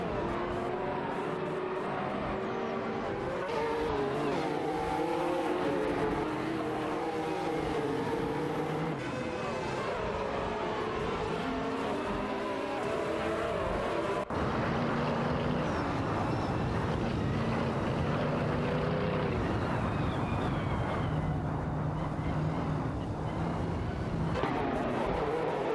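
Pagani and Honda race cars roar through a video game race, engine notes rising and falling continuously as cars shift and pass, a dense, loud motor drone with brief tonal sweeps throughout.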